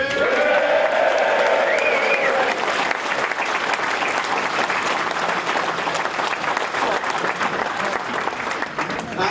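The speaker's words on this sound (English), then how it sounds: "let's just give him a round of applause" Crowd applause at a Brexit Party rally in Huddersfield, loud and sustained from a large audience filling the hall. Some voices and faint tonal sounds sit over the first seconds, then steady clapping continues alone to the end.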